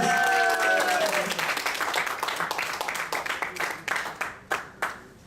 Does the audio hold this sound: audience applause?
yes